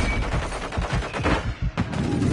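Rapid bursts of automatic gunfire in a video game firefight, loud and close, with a brief pause before the shooting resumes.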